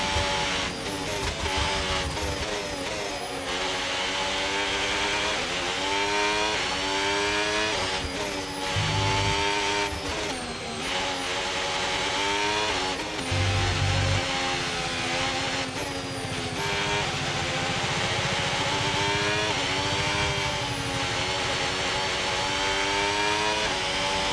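F1 race car engines in F1 25 during a race, a continuous high-pitched engine whine that rises and falls with gear changes and throttle, loud and sustained, with brief low rumbles.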